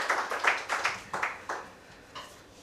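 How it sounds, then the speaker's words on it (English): An audience at a Chennai chapter forecasting-forum program gives a round of applause: a cluster of close, bright claps that thins to scattered hits and fades out over a couple of seconds, with no voices. "one more round of applause will be"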